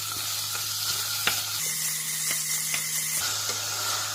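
Ground meat and onions sizzle in a pan with a steady close frying hiss, a few sharp utensil taps against the pan, and a low hum underneath; no voices.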